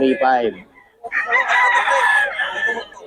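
A rooster crows loudly and close by, one full cock-a-doodle-doo after a short clucking call, alone without speech, among fowl brought in for sale.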